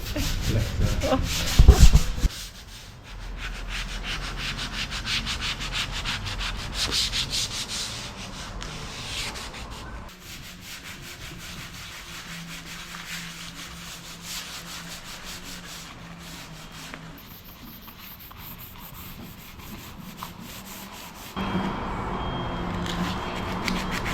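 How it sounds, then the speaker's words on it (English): Continuous abrasive rubbing of a power sander on a 58ft narrowboat hull in a dry dock, steady and rough, shifting in tone as pressure changes, after a brief clunk at the start. "Everybody loves sanding apart from Kerry, who's had to put ear defenders on"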